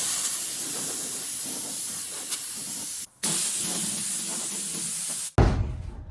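Compressed air blasts off sanded body filler on a Jaguar E-Type under restoration, a loud, steady hissing rush in two long bursts broken by a short gap, then a sudden, harsher blast at the end.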